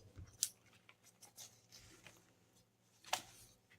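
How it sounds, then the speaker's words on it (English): Quiet snipping and rustling of scissors cutting paper along a curve, with two sharper clicks of the blades closing and soft sliding sounds in between. "I use the scissors and just follow along the curve."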